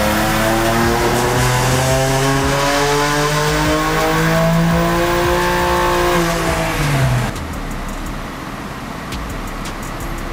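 A tuned car engine with water-methanol injection revs hard on a dyno, roaring loud and close as it climbs steadily through the rev range, then drops abruptly to a rumbling idle.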